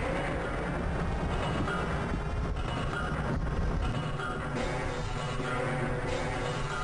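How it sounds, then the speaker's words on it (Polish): A train rolls along its track in the video game Half-Life, a continuous loud rumble with clattering wheels and occasional metallic knocks, sustained and unbroken throughout. "Dobra, niech pociąg se jedzie."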